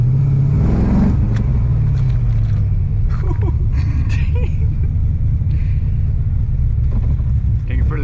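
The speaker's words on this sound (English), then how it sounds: "Taking for a little joyride through the neighborhood." An LS V8-swapped BMW E46 on a drive through a residential neighborhood gives a deep, steady engine rumble that stays loud and close throughout, with a few brief voice sounds over it.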